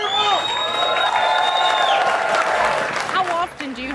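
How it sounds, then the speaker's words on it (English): A restaurant crowd claps, whoops and cheers for a diner taking on a 4.5-pound steak challenge, with loud, sustained applause and shouting voices that taper off near the end. "Y'all give him a round of applause and cheer him on."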